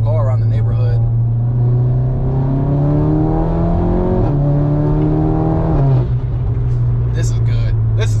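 MK8 Golf R with a DBV2 4-inch downpipe revving and accelerating, heard loud from inside the cabin as a steady droning exhaust note rising through gears with a couple of shift dips and brief noises near the end.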